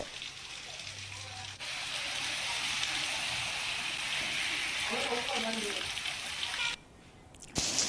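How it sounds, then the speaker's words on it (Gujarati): Monsoon rain falls steadily in Una, Gir Somnath, Gujarat, a dense, even hiss of rain on surfaces that carries through most of the clip, with a brief voice and a short break near the end. "સવારથી ગાજવીજ સાથે વરસાદ આવી રહ્યો છે"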